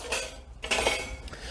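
A metal pan support clips onto a 4000-watt Campingaz Party Grill 600 Compact gas burner with a couple of close metallic clinks and scrapes.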